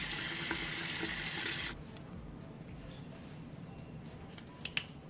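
A bathroom tap runs loudly for nearly two seconds while a face mask is washed off, then shuts off, leaving a faint room hush with a couple of small clicks.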